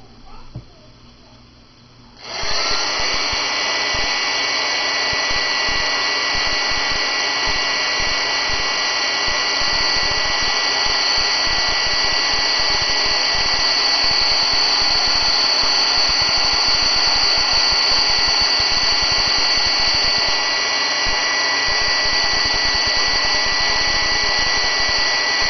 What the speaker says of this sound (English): now all I have to do is take my heat gun